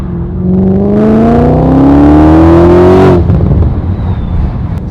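An 800 bhp supercharged Mustang accelerates hard through the gears, its loud engine note rising steadily in pitch for about three seconds before backing off, heard close from inside the car with no talk.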